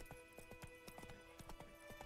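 Rhythmic clip-clop of a horse's hooves trotting at a steady pace in The Witcher 3 video game, close and clear, with game-style ambience and no talking.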